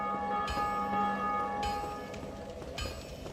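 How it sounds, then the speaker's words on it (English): A large bell tolls in the Dark Souls video game, three resonant strikes spaced about a second apart, each ringing out in a sustained metallic hum over a low background drone, with no talk. "Oh, somebody rang the bell."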